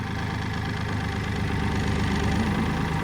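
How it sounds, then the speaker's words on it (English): Kioti CK3510 HST tractor engine running steadily as its Titan 5-foot brush hog engages, a loud continuous mid-to-low drone with a faint vibration throughout and no talking. "you can actually feel the brush hog picking up"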